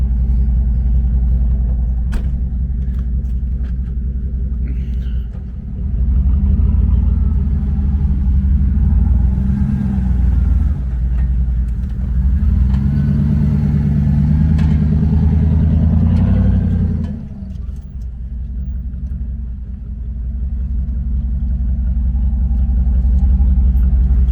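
A van engine rumbles steadily at close range while the vehicle turns around in soft desert sand, swelling louder with revving in the middle before settling back to a lower drone.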